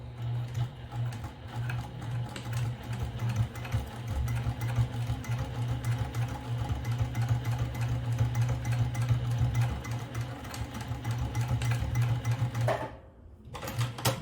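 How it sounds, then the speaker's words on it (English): A sewing machine runs steadily, its rapid mechanical stitching whirring without pause for several seconds before stopping abruptly near the end. "at the sewing machine, I'm going to start to sew."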